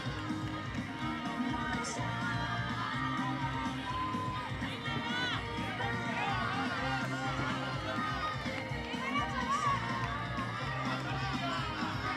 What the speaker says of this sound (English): Got some fans cheering him on back there